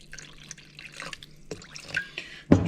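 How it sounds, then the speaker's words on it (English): Water trickles and splashes into thick injera batter, with small drips and pouring sounds, ending in a louder gush of liquid close by. "Now I'm going to add water."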